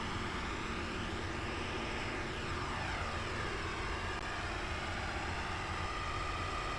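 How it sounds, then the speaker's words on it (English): A KiHa 31 diesel railcar engine drones steadily under throttle on a climbing grade in a train simulator game, a continuous faint rumble with no talk. "Time to gently give it more throttle and get this KiHa 31 climbing."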